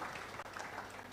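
An audience applauding a panelist at a book launch, a dense, steady wash of clapping from a crowd, fairly close and even throughout.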